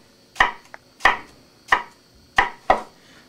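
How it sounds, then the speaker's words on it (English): A knife cuts slits into an onion on a board to dice it: five crisp, close, evenly spaced chops about two-thirds of a second apart, heard alone without talk. "with the knife you make slits about 1/8 of an inch apart, but don't go all the way through the onion"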